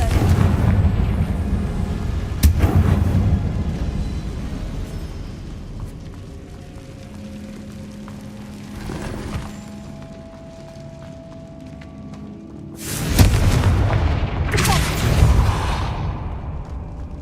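Confringo fire curse explosions go off in the Hogwarts Legacy video game as several heavy booms and blasts, loudest near the start and again near the end, with quieter rumbling in between.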